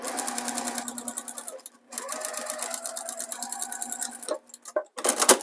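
Sewing machine stitching binding onto a quilt, a fast rhythmic needle ticking in several runs broken by brief stops, fairly quiet and close with no voices.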